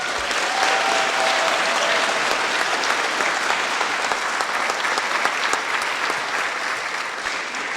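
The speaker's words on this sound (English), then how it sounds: "Let's give all of the recipients and the individuals and the organizations who made the awards possible a big round of applause" An audience at a school moving-on ceremony applauds the award recipients with loud, sustained clapping from many hands, a dense wash that stays strong throughout and eases slightly toward the end.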